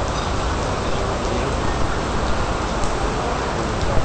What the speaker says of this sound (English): And there's the rain coming down.